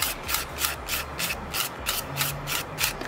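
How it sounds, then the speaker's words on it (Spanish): An acrylic nail being shaped with a nail file, a rhythmic scratchy rasp of about a dozen even back-and-forth strokes, close and fairly loud with no talking. "Y voy limando así"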